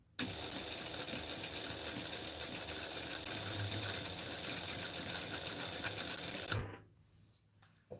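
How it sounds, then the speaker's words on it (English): A sewing machine runs steadily, understitching the seam allowance toward the lining of a McCall's 7974 garment, then cuts off near the end, leaving quiet room tone. "I just want to push all the seam allowance towards the lining as I stitch"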